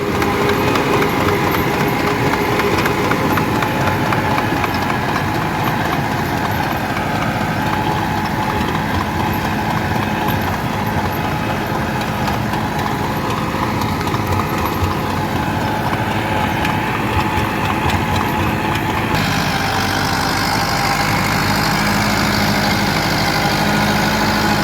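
An ATS 290 tractor pulling a rotavator in gear, its engine droning loud and continuous up close with a steady rumbling clatter and no pauses.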